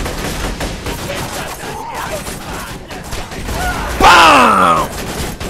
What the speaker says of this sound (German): ich habe jetzt eine coole Waffe, die schießt Granaten!